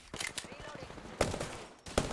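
Apex Legends gunfire: rapid bursts of shots crackle near the listener, with rattling automatic fire and a few louder sharp cracks over a short busy stretch.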